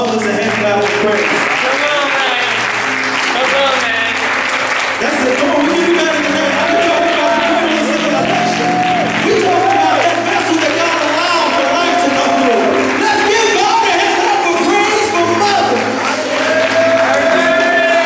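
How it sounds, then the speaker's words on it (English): A church congregation claps for mothers during a worship service, with loud, continuous applause from many hands alongside voices, music and shouted encouragement filling the sanctuary throughout. "Let's give mothers a hand clap of praise."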